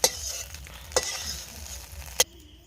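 Desi chicken eggs fry in a pan for egg chow mein, a quiet sizzle running underneath while three sharp metallic clanks from a spatula or spoon strike at uneven intervals.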